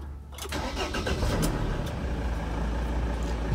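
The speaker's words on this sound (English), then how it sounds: "put the van's key into the ignition where it fits, and start the van." A T1N Sprinter van's engine cranks briefly and catches, then settles into a steady, close, fairly loud diesel idle with no voices.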